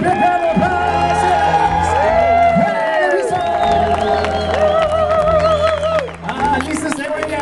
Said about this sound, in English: Give a big round of applause to our brand new group today.